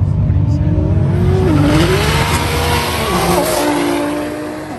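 Race cars in a roll race, a twin-turbo car against an Audi R8, roar loudly and continuously with rising and falling engine pitch as they accelerate, a voice talking over them throughout.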